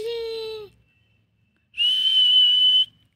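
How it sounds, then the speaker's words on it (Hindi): A policeman blows two whistle blasts in a police station. The first is short and shrill and quickly cut off, and after a pause a second, longer steady blast follows, loud and close. "सीटी बजा दी"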